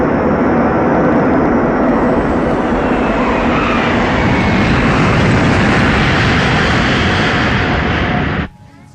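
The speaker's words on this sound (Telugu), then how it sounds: "మన ఫ్లైట్ ని గోవాలో ఎమర్జెన్సీ ల్యాండింగ్ చేస్తున్నాం" Passenger airplane making an emergency landing in Goa, heard as a loud, continuous roaring engine rumble filling the cabin for several seconds, then cutting off abruptly near the end.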